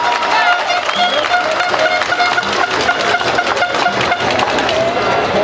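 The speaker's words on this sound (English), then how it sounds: "Round of applause for them too, please." A crowd at a Cup Match cricket presentation claps loudly and continuously, the dense applause mixed with cheering and lively crowd noise, with some voices audible in the mix.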